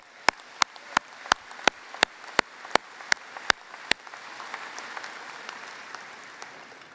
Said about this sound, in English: Please give these efforts a well-deserved round of applause.